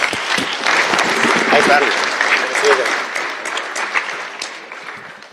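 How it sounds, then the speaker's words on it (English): Audience applause for a speaker at a cannabis conference, a dense, steady crowd clapping that continues loudly and gradually tapers, with a voice speaking briefly over it. "Round of applause, Dr. David Nathan"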